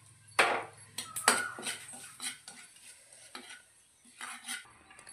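Coriander powder stirred into a tempering of green chillies and curry leaves for kaarapusa mixture, giving a series of sharp spoon scrapes and clinks against the pan over a faint sizzle, moderately loud with short pauses.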